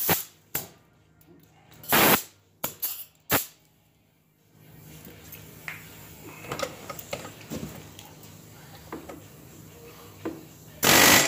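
Air chisel hammering at seized king pin bushings on a 1984 Honda TRX200, loud sharp bursts near 2, 3 and 11 seconds with a busy mechanical clatter in between.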